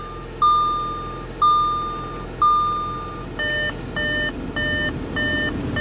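An open-door warning chime from a Chevy Tahoe, sounding first as three spaced, decaying electronic dings and then as a faster run of short, steady beeps, loud and clear over a low idling engine hum.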